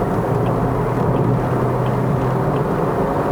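2017 Toyota Vios Sports Edition CVT accelerating toward 3000 rpm: a steady, moderate engine drone with road noise heard from the cabin, with no talking.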